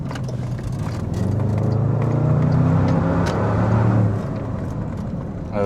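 A Porsche Techart Magnum SUV engine hums at idle, swells into a deeper, louder throaty rumble for a couple of seconds, then settles back to a steady drone, heard from nearby without talk.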